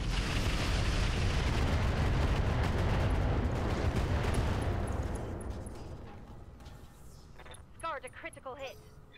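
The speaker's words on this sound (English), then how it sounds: "And firing." Weapons fire in the Roguetech mech video game: a heavy, roaring barrage of booming shots and explosions that holds loud for several seconds, then fades into quieter mechanical clicks and whirring effects.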